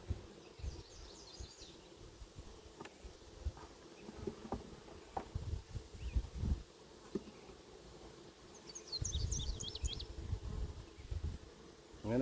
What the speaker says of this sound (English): Quite a few bees up here though.